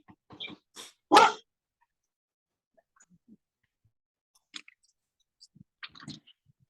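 A dog barks excitedly in a quick cluster of loud, close barks near the start, then falls to scattered faint yips and rustling sounds with no one talking.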